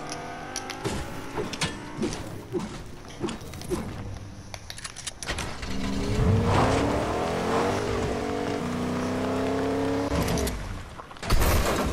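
A car engine in a video game revving and accelerating, with rising and falling gear-shift tones and scattered clicks and knocks, growing louder midway before a sharp noisy burst near the end.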